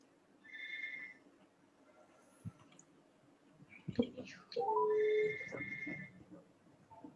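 A telephone ringtone for an incoming call chirps in two bursts of repeated electronic tones, with quiet clicks and brief murmured voices between them in a calm indoor room.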